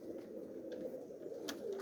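Pigeons coo softly at a loft, a steady low murmur of several birds with a few faint higher calls over it, no voices.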